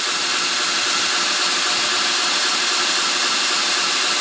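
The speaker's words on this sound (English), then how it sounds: "I let the grinder dig in." A belt grinder shaping a chef style knife blade, a loud steady abrasive hiss and whir that holds constant throughout with no talking.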